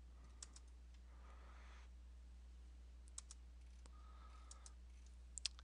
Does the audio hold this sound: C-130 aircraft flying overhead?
no